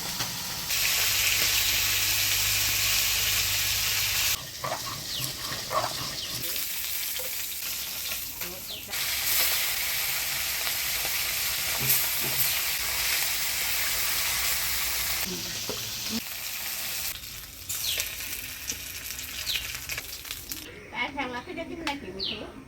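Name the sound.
gulsha fish frying in oil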